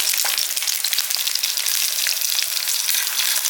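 Ten small shallots frying in hot oil for a chutney, a dense, loud crackling sizzle filling the whole stretch close to the pan, with no voices.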